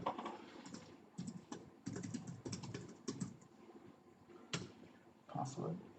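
A password is typed on a computer keyboard in quick clattering bursts with brief gaps, close up and fairly quiet, while a voice speaks over the keystrokes.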